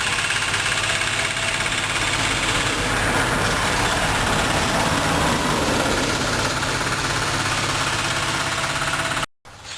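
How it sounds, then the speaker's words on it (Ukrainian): A loud, steady homemade tractor engine chugging and rumbling continuously, rough and knocking, close by, then cutting out abruptly at the end. "І він собі склепав такого трактора."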